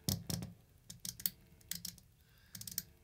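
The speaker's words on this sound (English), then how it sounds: "it's a clicky knob that sort of clicks into different positions" The clicky attack knob on a Gokko Pazuzu overdrive pedal is turned through its detents, giving a series of small, sharp, close clicks in uneven bursts against near silence.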